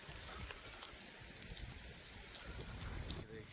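Rain falling heavily outdoors, a steady broad hiss of drops with occasional sharper patters, faint and continuous without talk.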